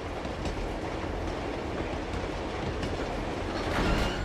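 A moving train rolls along steadily in the train level of the video game Uncharted 2 Among Thieves, with continuous loud rumble and wheel clatter throughout and a slight swell near the end.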